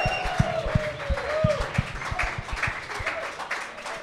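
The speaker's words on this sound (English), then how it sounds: "let's give them a big warm round of applause for hosting us here tonight" An audience at a sold-out live evening event in a coffee venue claps warmly, with steady applause and crowd noise under a continuous low rhythmic thump.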